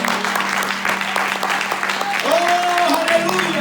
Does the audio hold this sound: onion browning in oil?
no